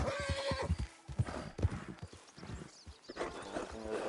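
A horse in Red Dead Online galloping with rhythmic clip-clop hoofbeats, then letting out loud whinnying neighs, close and prominent in the game audio.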